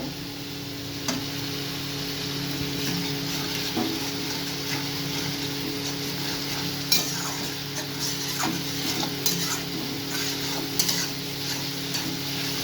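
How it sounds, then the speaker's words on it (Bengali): Spices with ginger, onion and garlic frying in oil for a rohu fish curry, with a steady background sizzle and irregular scraping taps of a stirring spoon against the pan, alongside a faint constant hum. "ভালো করে কষিয়ে নিতে হবে যাতে মশলার গন্ধ আদা পেঁয়াজ রসুনের গন্ধ সব চলে যায়"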